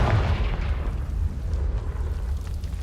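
A Confringo blasting spell explodes in Hogwarts Legacy, one loud low boom at the start that settles into a rumbling, crackling tail.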